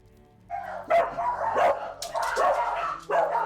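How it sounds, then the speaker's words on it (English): Several dogs bark in a Baldur's Gate 3 game scene, a run of loud overlapping barks and yips in quick bursts, close and alone with no talk over them. "I could have sworn I just heard a bunch of dogs just barking it out."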